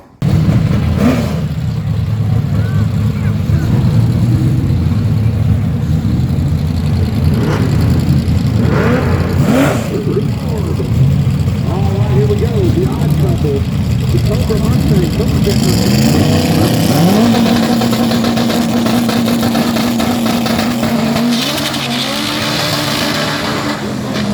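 Honda Civic FG2 race car running on E85 at a street car drag racing event, its engine droning and revving loudly and continuously up close, with a rising whine near the end and faint voices in the background.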